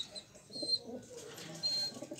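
Soft, low cooing from racing pigeons murmurs on and off throughout, with faint rustling and a thin high background hiss.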